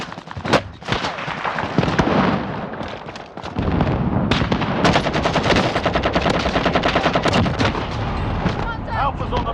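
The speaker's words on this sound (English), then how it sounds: "I am under fire." Sustained machine gun bursts in a video game, loud and close, with rapid rattling fire, heavy impacts and explosive booms layered together, and a voice speaking briefly amid the barrage.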